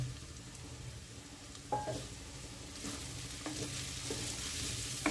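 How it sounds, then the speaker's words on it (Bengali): Powdered chilli, turmeric and cumin being stirred into fried onion, ginger and garlic for pav bhaji, a soft continuous sizzle with scattered spoon scrapes and taps. "দিয়ে ভালোভাবে সব মশলার সাথে মিশিয়ে নিচ্ছি গুঁড়ো মশলাগুলো"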